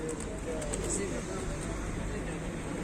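Pigeons coo under a steady crowd-like murmur at an outdoor spot where a child is feeding birds, with people talking nearby throughout.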